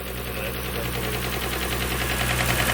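A Nissan R33 GTR engine running with a noisy AVCS gear, a loud, steady mechanical drone with a rattling, knocking edge, close up and continuous with no talk over it.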